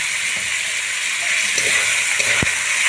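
Vegetables for a winter vegetable dal fry in a pan with a steady, close hiss and sizzle, broken by a few soft clinks and stirring taps.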